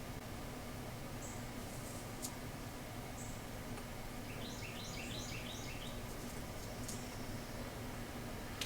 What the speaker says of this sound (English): if you guys hear the birds chirping, I'm sitting right here at my window